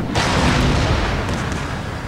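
Artillery fire in a Total War Gettysburg battle forms a loud, continuous rumbling roar of massed cannon with no distinct separate blasts.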